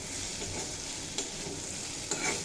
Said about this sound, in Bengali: বেশ কিছুক্ষণ ঢাকা দিয়ে দিয়ে কুমড়ো ভেজে নিয়েছি।